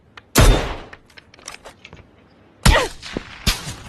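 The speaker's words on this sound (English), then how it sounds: "Where's Coon shooting? Coon's not shooting the right direction." Gunfire in the PUBG video game: two loud bursts of shots with sharp single cracks and quieter distant pops in between, over a near-silent background with no talk.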